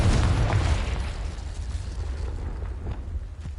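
A Confringo explosive spell goes off in Hogwarts Legacy, a loud, deep blast at the start that rolls into a sustained rumbling tail and fades slowly.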